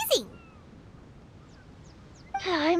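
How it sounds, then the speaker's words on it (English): Cats meow in a video game set at a cat-themed island spot, one short meow at the start and another longer, wavering meow near the end, with quiet background between. "So many cats."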